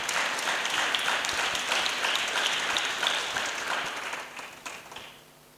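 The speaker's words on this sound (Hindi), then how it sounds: "जोरदार तालियां बजाएं।" An audience claps loudly and steadily at a Christian gathering, dense applause that holds for several seconds before thinning and fading near the end.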